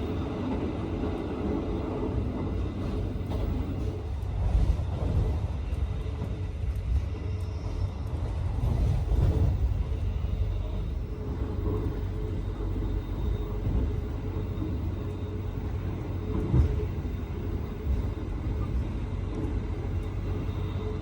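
A Gajayana Tambahan executive-class passenger train running on Indonesian rails, heard from inside the carriage: a steady, loud low rumble with rattling and occasional heavier knocks, continuous throughout with no talk.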